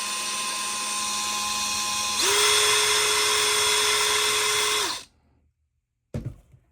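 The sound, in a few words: small drill bit drilling into a diecast toy car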